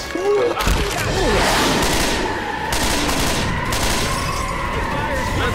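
Rapid incendiary-round gunfire and explosive game combat from Left 4 Dead 2 in the New Orleans French Quarter, loud and continuous throughout, with a voice speaking over the din.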